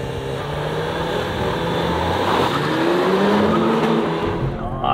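A Toyota Corolla, Honda Civic, Hyundai i30N and SEAT Leon accelerate hard side by side in a drag race, a steady loud roar of engines and rushing air with rising tones as they pull away.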